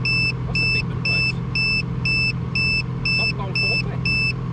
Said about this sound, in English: The beeping noise, I think, might be in the inverter.